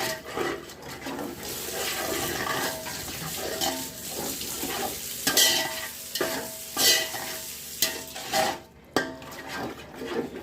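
Curd being stirred into biryani masala for Ambur-style chicken biryani, a steady wet scraping and mixing with a soft sizzle underneath, a few sharper clinks of the spoon against the pot.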